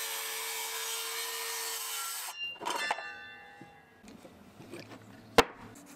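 Hand-held saw with clamps and a speed square cutting wooden rails to length for a cat bed cabinet, with a steady rasping cut for about two seconds, then shorter strokes, wood clatter and a sharp knock near the end.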